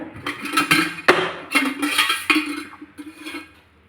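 A metal frying pan clanks and scrapes onto a stove, with a few sharp knocks and clinks of cookware close by.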